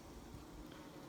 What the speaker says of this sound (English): So we just smoked these bees down in